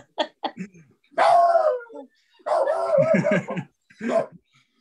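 A small dog barks and yips in a few short, close bursts with whimpering tones, in an otherwise quiet indoor setting.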